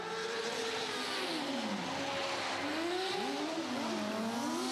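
Single-seater buggies built for speed and bumps drive on an off-road course at a motor show, their engines droning and revving continuously with rising and falling pitch as they pass, loud and steady throughout.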